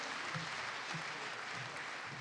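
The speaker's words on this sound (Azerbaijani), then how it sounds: "Alqışlayaq." An audience applauds a Baku Music Academy student, a steady wash of many hands clapping, even and sustained, heard from within the hall.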